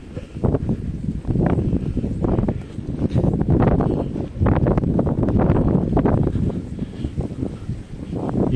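Wind gusts hard and continuously beside a cold river in freezing weather, roaring and buffeting the microphone in uneven surges with no voices.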